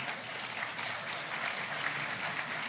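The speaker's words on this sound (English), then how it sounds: "a human and a thunderous round of applause, not an AI round of applause" A crowd in a parliamentary hall gives the Speaker of Parliament a sustained round of applause at Ghana's national AI strategy launch, the dense clapping steady and unbroken throughout.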